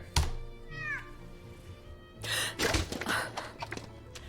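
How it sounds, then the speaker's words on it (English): A cat meows in the mystery video game Telling Lies, one clear rising meow early on, followed by thumps and rustling bumps, with no talking. "I thought that was my own cat."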